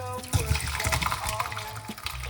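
Homemade parsley and lemon tea is poured off, a short splashing, trickling flow of liquid heard close by while a voice talks over it.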